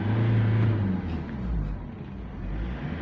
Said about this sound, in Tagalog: So dito i-rev natin yung i-rev